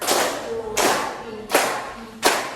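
A group doing a hand-clapping game claps in sharp, loud bursts, four distinct strikes spaced at a steady beat, each ringing briefly before the next.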